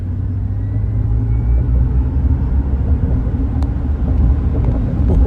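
A 2024 Chevy Silverado EV Work Truck accelerating, heard from inside as a steady low road rumble with a faint rising electric whine, building slightly in loudness, without speech.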